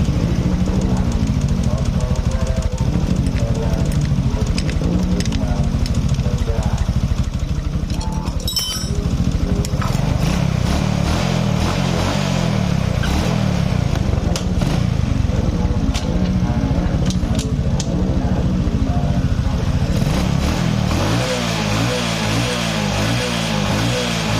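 A Honda Supra X125 motorcycle with a noisy clutch area and low power runs its engine close by in a steady, loud, rhythmic chug, with a voice talking over it in places.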